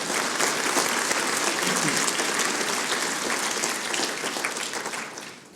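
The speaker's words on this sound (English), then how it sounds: "Let's hear a big round of applause for being together." Strong, continuous applause from a large crowd at a city's annual state of the city address, a full, dense wash that holds steady and fades slightly toward the end.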